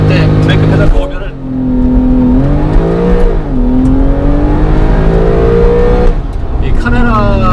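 A Porsche 911 (991.2) Carrera 3.0 twin-turbo engine holds at about 6000 rpm under launch control, then surges and climbs in pitch as the car launches hard, the roar staying close and steady.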